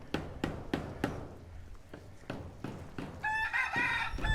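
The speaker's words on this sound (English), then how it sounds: "And we have chickens hanging out by the road." Chickens cluck in short bursts close by at a roadside in León, Nicaragua, followed by a rooster crowing loudly near the end, with some outdoor background noise.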